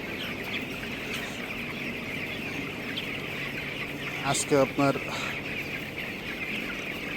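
Broiler chickens on a poultry farm keep up a steady, dense clucking and chirping throughout, with a brief louder burst of calls near the end and a person speaking over the flock.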